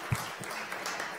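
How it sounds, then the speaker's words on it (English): Applause from the audience at an innovation café event, moderate and fairly even, with a few sharper individual claps standing out near the start. "Please give them a round of applause."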